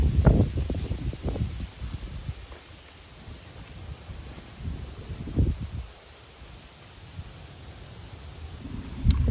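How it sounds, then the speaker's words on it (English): Gusts of wind buffet the microphone in low, rumbling bursts that rise and fade, with quieter stretches between them and faint rustling outdoors in a small farm garden with corn and squash. "It's like kind of a windy day."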